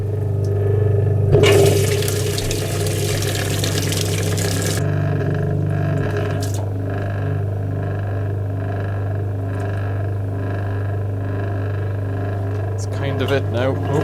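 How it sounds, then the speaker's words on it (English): A vintage Hotpoint Empress tub washing machine with a corroded outlet manifold pumps water: a steady low motor hum runs throughout, with a loud rush of gushing water for a few seconds near the start before the hum carries on alone. "So let's do this pumping action one more time."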